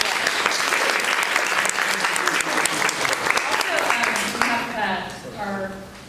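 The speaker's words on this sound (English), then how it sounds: "Let's give them a round of applause." A room of parents and staff at a school PTA meeting breaks into a round of applause, steady and fairly loud, then it thins out as a voice begins speaking over the last claps.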